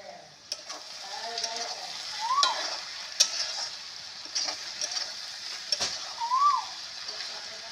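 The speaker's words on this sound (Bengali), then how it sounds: "এই কিশমিশটা এবার দেবো আমি এর মধ্যে।" Raisins going into a cooking pan with a little water, soft sizzling beneath scattered clinks and scrapes of a spoon stirring, fairly quiet and close, with faint voice-like sounds here and there.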